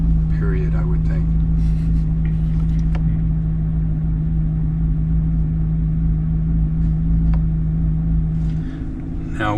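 A C8 Corvette Z06 idles in sport mode with a steady, deep engine rumble throughout, while people talk over it nearby.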